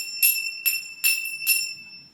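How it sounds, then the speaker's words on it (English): Small Indian bells ring out in four bright, separate strikes, each chime shimmering and fading before the next; nobody speaks over them. "You've got some little Indian bells there."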